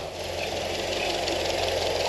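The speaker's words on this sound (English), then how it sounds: "We've now got the engine running." A Series 1 Land Rover engine idles steadily after its first start in over 20 years, a continuous close mechanical chug with a faint knocking rhythm, heard alone without talk.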